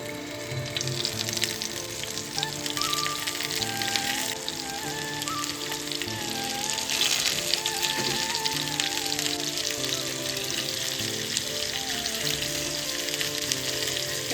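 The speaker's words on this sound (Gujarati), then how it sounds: "એક ચમચી જેટલું તેલ એડ કરશું અને બે ટમેટાને છે ને આપણે કટ કરીને અંદર એડ કરશું" Tomatoes, garlic and green chillies fry in oil in a small pan, giving a steady, close, dense sizzle that holds evenly for the whole stretch, with no voices.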